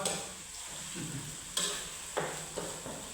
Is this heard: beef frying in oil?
yes